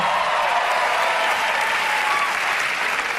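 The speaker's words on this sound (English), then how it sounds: "Never so much applause on that part." A stand-up comedy audience claps steadily and loudly, a dense continuous wash of applause throughout.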